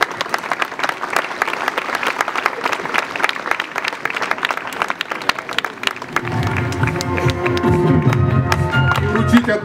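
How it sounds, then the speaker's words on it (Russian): Sustained applause fills a cadet camp ceremony, many hands clapping densely and loudly; partway through, voices and music-like tones rise beneath the continuing clapping. "Аплодисменты Надежде Геннадьевне!"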